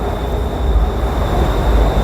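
A BTS Skytrain at Phloen Chit station in Bangkok gives a loud, steady rumble with a faint high whine from the elevated rail platform, with no voices.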